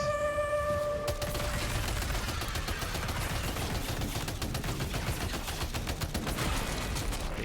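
Dense gunfire in the Death Stranding 2 video game: rapid automatic bursts and repeated shots crackle continuously, loud and close, after a short electronic tone at the start.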